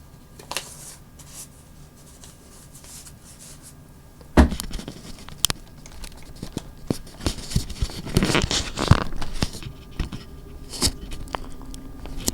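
Packing tape pulled and torn at a desk while packing a Glowforge-made heart order for USPS shipping: sharp ripping and crinkling bursts, close and loud, alone after a quiet start.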